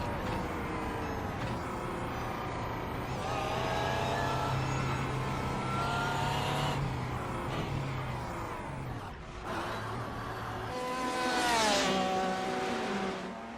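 GT race cars accelerating in the iRacing video game at Sebring International Raceway, engine notes rising and shifting as cars pass, with a sustained whine building near the end, loud and continuous.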